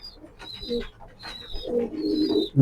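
Racing Maxi pigeons coo in low, throaty bursts that grow louder toward the end, near at hand, with thin high bird chirps repeating behind them.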